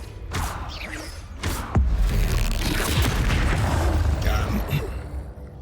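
In the Hogwarts Legacy video game, the Confringo spell sets off a deep booming blast followed by rumbling crackle, with other spell effects thudding around it.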